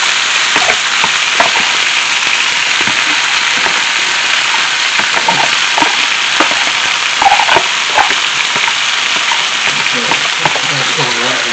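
A noodle omelette fries in a pan with a steady, loud, dense sizzle and crackle that never lets up, close by, with faint background voice.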